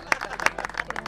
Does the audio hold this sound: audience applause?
yes